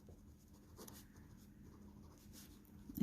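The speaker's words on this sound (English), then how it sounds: "Let's write that down" Pen or pencil writing notes on paper during a physics lesson, a soft continuous scratching and tapping close by with no talking.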